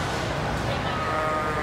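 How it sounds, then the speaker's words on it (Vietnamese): Goats bleat amid steady crowd murmur at an American livestock fair, the animal calls mixed into a busy outdoor background with people talking nearby. "Có dê, dẫn dê đi đi đi thi nè."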